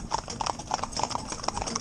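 Hooves of young, green ponies clip-clop steadily in a mixed four-in-hand team, a brisk busy patter of overlapping footfalls close by with no voices over it.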